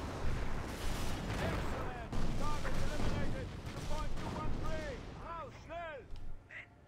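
Gunfire and artillery from the video game Company of Heroes, a dense run of blasts and shots with rising whistling shell sounds near the end, continuous and fairly loud.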